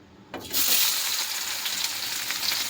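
Chopped onion dropped into hot oil in a wok bursts into a loud, close hiss that settles into a steady, even sizzle.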